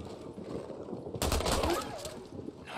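Gunfire in the video game Days Gone, a burst of loud close shots erupting midway over a noisy game background.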